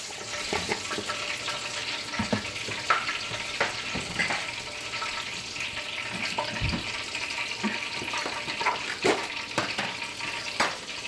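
Oil heating in a pan ahead of frying Jamaican escovitch fish, giving a steady crackling sizzle with scattered pops and a faint watery hiss throughout, close and unbroken, with no talking.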